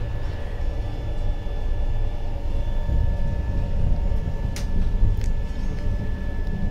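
A moving train heard from inside a first-class AC coach: a continuous low rumbling roar with a couple of faint clicks, and no one speaking.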